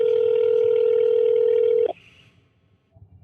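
A telephone tone holds steadily for nearly two seconds, then cuts off with a brief dialing click and leaves near silence with faint background noise.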